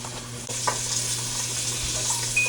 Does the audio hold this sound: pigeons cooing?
no